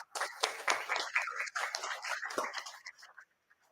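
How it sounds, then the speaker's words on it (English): Brief round of clapping from the audience at a Mumbai startup meet, scattered and uneven hand claps that thin out and fade toward the end. "Can we please get a round of applause?"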